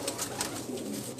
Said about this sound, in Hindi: दोस्तों आप देख रहे हैं कबूतर बहुत ज़्यादा हो रहा है